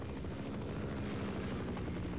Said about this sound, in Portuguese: É a única coisa que eu não quero, que o helicóptero apareça aqui.